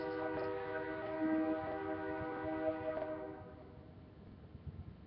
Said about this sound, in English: Hear the trains going by.